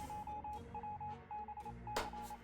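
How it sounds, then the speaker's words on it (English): A Morse code radio signal from 60 Seconds Reatomized beeps in a fast, steady run of short and long tones with brief gaps. It plays over low game ambience, and one louder burst of static cuts in near the end. "Oh, but we hear the Morse code."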